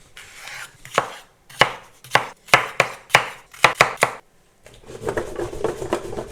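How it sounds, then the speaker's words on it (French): Knife chopping tomatoes, red pepper and onion coarsely on a board for an air-fryer tomato soup: about ten sharp, evenly spaced cuts, close and clear, followed by a softer rustle of vegetables being moved. "on va prendre 1 kg de tomates qu'on va nettoyer et couper grossièrement comme dans la vidéo"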